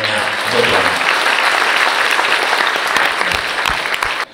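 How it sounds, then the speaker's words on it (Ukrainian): Loud, sustained applause from a large audience in a conference hall at the annual Yalta European Strategy meeting, a thick continuous clatter that holds steady and cuts off abruptly at the end. "Я прошу зараз у вас, всіх, хто в цій залі знаходиться, аплодисментами подякувати воїнам"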